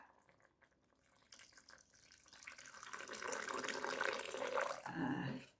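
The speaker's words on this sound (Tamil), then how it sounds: "இதில் வந்து தேங்காய் பாலை ஊற்றுறேன்." Coconut milk pouring into a pot for kothi kulambu, a liquid stream that starts thin and swells into a loud, splashy gush before tapering off.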